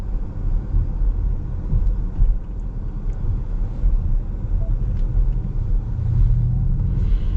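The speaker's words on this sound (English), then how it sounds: "The propulsion sounds also not bad." Inside a moving 2025 Ford Mustang Mach-E Premium electric car, the synthetic propulsion sound hums low and steady, mixed with road rumble. There is no talking over it.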